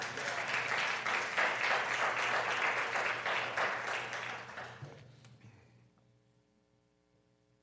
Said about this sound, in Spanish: Aplausos para el Señor, mis hermanos.